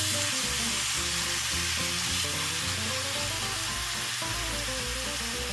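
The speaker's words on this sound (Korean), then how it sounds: "후라이팬은 뜨겁게 준비해 주시고요. 이제 아까 재워둔 양념을" Marinated pork shoulder bulgogi sizzles steadily in a hot frying pan, a loud continuous hiss and crackle with low music playing underneath.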